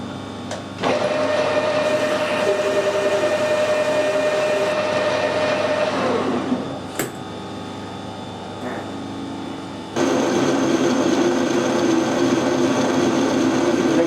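Power drill boring a shallow recess for a bolt head, running steadily with a change in pitch midway, briefly easing off, then spinning up again, loud and close with no talk.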